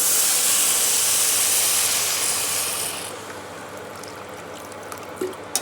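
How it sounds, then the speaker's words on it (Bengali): Dalia, lentils and vegetables frying in a pan give a loud hissing sizzle that fades as water is poured in, leaving a quieter simmer with a few small pops near the end. "আমরা এর মধ্যে এদের একটু হালকা জল ফেলে দেবো"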